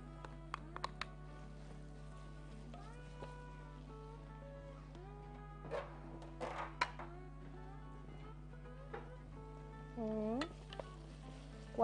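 Onions and carrots frying in a pan, a soft steady sizzle with occasional stirring clinks and scrapes, faint and close beneath a constant low hum.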